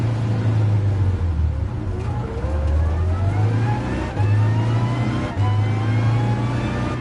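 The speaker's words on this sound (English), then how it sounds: "I'm going through the revs really fast." A car engine in the racing game Gran Turismo Sport revs hard through quick gear changes, pitch climbing repeatedly and dropping at each shift, loud and continuous with no talk.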